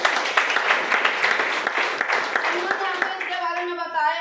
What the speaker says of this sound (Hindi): उनके लिए बहुत जोरदार ताली।